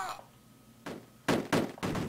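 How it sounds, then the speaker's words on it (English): Gunfire in the Commodore Amiga game Cannon Fodder comes as a few sharp, loud bursts of shots in quick succession, close and punchy, following a quieter opening. "Stop shooting at me, lads!"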